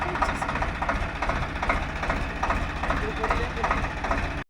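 Swaraj 744XT 4x4 tractor engine running steadily during a gear speed test, a continuous low rumble with a faint rhythmic pulsing throughout, then cutting off abruptly at the end.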